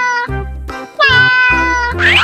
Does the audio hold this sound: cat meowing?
yes